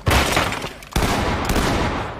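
Continuous, dense burst of rapid gunfire in the video game Ready or Not, loud and close, with a brief lull before firing resumes just as heavily.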